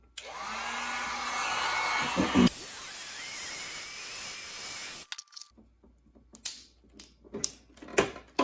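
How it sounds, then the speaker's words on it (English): A heat gun blows a steady, loud airflow onto a car headlight housing for about five seconds, then cuts off, followed by clicks and taps as the housing is handled. "I'm gonna run a heat gun over this and see if I can heat it up and get it to pry apart"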